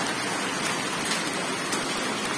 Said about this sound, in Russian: Настоящий град.